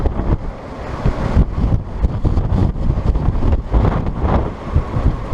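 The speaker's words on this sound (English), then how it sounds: "It's going to be very, very windy up here" Strong wind buffeting the microphone on the upper deck of the cruise ship Carnival Freedom, steady and loud with rough gusting bursts throughout, no voices.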